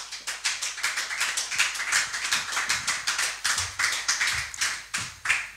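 A church congregation claps in praise, a steady, brisk rhythm of many hands striking together, loud and sustained throughout with no speech over it.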